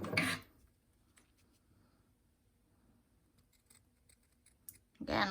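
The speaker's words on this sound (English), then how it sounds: "I'm just going to trim a little diamond shape out of each corner." Scissors snip diamond shapes from the corners of fabric for a patch pocket, a few faint close cuts and rustles spaced through a quiet stretch, with brief talking at the start and end.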